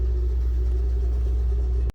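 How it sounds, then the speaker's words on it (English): A car engine idles steadily during a MAF sensor test, a constant low rumble with a faint mid hum, heard close and alone before cutting off abruptly at the end. "So here's the car running."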